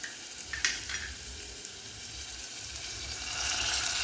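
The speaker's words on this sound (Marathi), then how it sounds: "पापलेट घालणार आहोत" Pomfret slides into a pan of frying onions for a Goan curry, and the hot oil answers with a close, steady sizzle and brief clattering stirs near the start, growing slightly louder toward the end.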